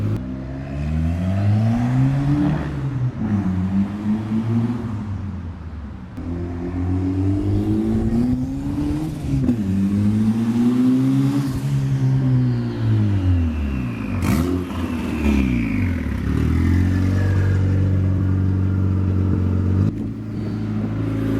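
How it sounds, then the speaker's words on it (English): A turbocharged F23 Honda Accord engine revs hard through repeated climbing pulls, pitch rising and dropping between gear changes, loud and close throughout. "So about to do a lap and rage it, see what happens"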